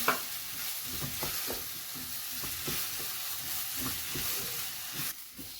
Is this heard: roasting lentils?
yes